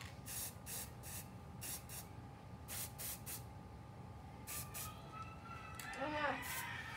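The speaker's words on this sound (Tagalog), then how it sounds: "Itang ka na akong spray." Short bursts of spray paint hissing from a can, several quick puffs in a loose rhythm, close and fairly faint, with people talking nearby.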